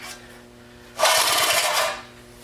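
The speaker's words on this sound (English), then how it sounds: "I guess I shoved that cover on too hard. It's rubbing on the screen." Cover on a 1953 reel mower rubbing against its screen, a harsh broadband scraping rasp that starts abruptly and runs for about a second before cutting off, loud and close with no talk.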